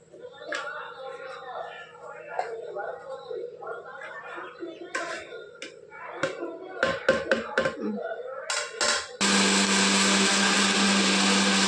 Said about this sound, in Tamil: மிக்ஸி ஜாரில் போட்டு நம்ம அடித்து எடுத்துக்கணும்